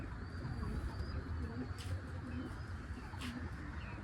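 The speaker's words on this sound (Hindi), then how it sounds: "ये अपने कबूतर उड़ रहे हैं।" Pigeons of the Indian Zakh breed cooing and calling over a rooftop with trees nearby, a steady low murmur of coos and faint chirps continuing throughout at moderate distance.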